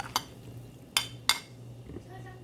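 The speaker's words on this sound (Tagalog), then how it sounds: "Yato na po siyang takpan guys. Takpan natin ulit." A lid set on a pot of simmering salmon belly sinigang, a few sharp metallic clinks spaced over a couple of seconds against a faint low hum.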